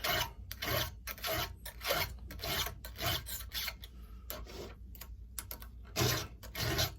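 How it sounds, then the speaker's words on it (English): A metal file rasps across a chainsaw chain in short repeated strokes, close and gritty, with brief pauses between passes and no talking. "You're gonna hear that file grab"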